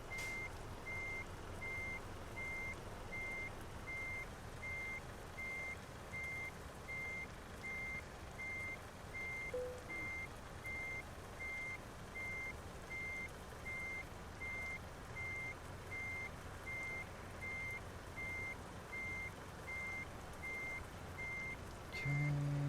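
A truck reverses in Euro Truck Simulator, its reverse alarm beeping in a steady, evenly spaced rhythm for the whole stretch over a constant low engine rumble, with no voices.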